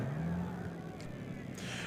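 A Nissan Skyline engine at an import car event idles and revs with a low, steady drone, fairly close, while other road noise hisses around it.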